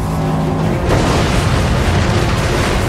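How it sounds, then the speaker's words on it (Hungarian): Long-range naval gunfire and explosion from the German battleship Bismarck, a deep rumbling boom that swells after a short lull and then rolls on heavily to the end. "Hitler szuperhajójának messzehordó ágyúi elsüllyesztik a brit hadiflotta büszkeségét."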